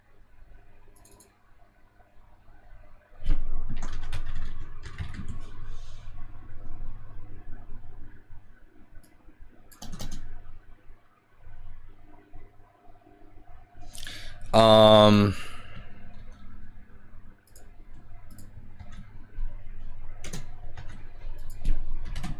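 Fingers type on a computer keyboard while a tweet is being written, with quick close clicking that runs steadily under occasional voice sounds and one brief loud vocal burst.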